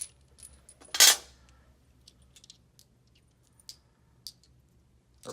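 Metal nuts and bolts for shelving are picked up and set down, one sharp jingling clatter followed by sparse, faint metallic clicks and taps in a quiet room.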